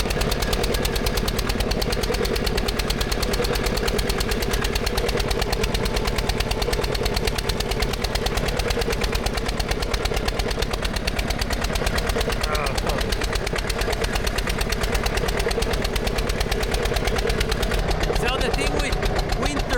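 A vintage Porsche Junior 108 tractor's small diesel engine revs, its rapid, even pulsing chug loud and close throughout while it labors out on snow, with someone talking over it.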